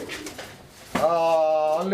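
A pair of Black Magpie Pouter pigeons coos close by with a deep, sustained throaty call that swells after a brief lull, heard over faint background voices.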